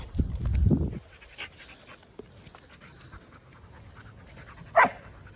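A Labrador gives a short burst of rough vocalizing at the start, then soft panting and quiet sounds, with one brief sharp yelp near the end.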